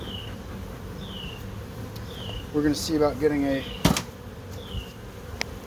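Honey bees buzz around a well-fed hive box that is nearly full, a steady hum of insect flight close by, broken by someone talking briefly and a few sharp knocks near the middle.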